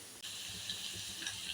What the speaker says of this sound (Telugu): ఇప్పుడు జస్ట్ ఒక 2-3 మినిట్స్ మనము ఈ జీడిపప్పును ఫ్రై చేసేసుకోవాలండి